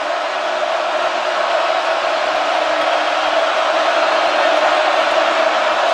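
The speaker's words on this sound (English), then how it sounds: "listen to this crowd as they head into the end zone" A huge football stadium crowd at Oregon roars in a dense, continuous wall of noise as a play heads toward the end zone. The roar holds steady at high volume from start to finish.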